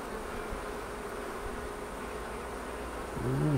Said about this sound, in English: There's a good frame full of bees in the box just hanging out on the walls.